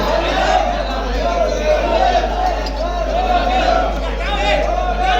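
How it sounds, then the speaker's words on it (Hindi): A dense crowd of devotees fills the pauranik Shiva temple at Gola Gokarannath on the first Monday of Sawan, before dawn, with constant overlapping chatter and a steady low electrical hum beneath. "भक्तों की भारी भीड़"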